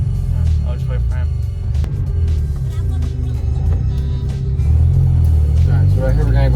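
A BMW E30/E36 with a short-throw shifter pulls away in first gear, its engine a loud, continuous low rumble that swells toward the end while people talk over it.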